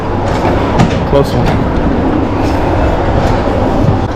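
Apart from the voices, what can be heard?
train starting to move, heard from inside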